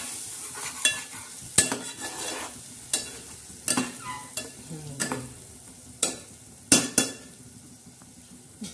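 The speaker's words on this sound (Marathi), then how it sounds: "हळदच्या नंतर हे बघा, हे असं टाकणार आहोत आणि छान असं मस्त हलवून घेणार आहोत।" Masala frying in a pan as turmeric is stirred in: a soft sizzle underneath with repeated sharp scrapes and taps of a spoon against the pan, fairly quiet and close.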